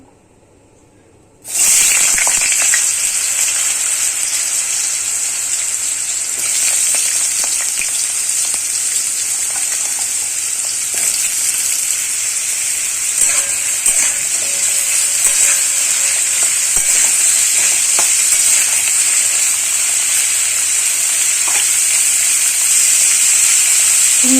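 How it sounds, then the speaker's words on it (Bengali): Kohlrabi fries in a pan after shrimp were cooked in it. A loud, steady sizzle starts abruptly and holds unbroken, close up, with no talking. "এবার ওলকপিটা ভেজে নেব"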